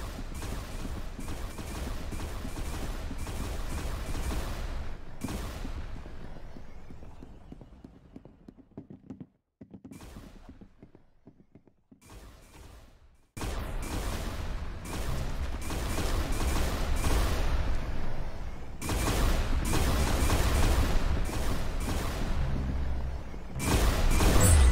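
Gunfire in the Roblox shooter Arsenal, a steady wash of rapid shots and game noise that drops out briefly in the middle before returning loud and dense.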